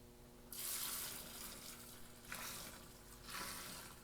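A washing machine in Taiwan fills with water, three bursts of hissing, splashing inflow separated by short pauses, heard close and fairly quiet with no talking.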